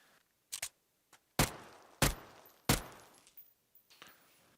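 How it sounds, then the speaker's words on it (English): Gunfire in the video game PUBG: a handful of separate sharp shots at uneven intervals, a couple close together, each with a short decaying tail, over near-silence. "As much as I hate to piss off my teammates by firing off a round"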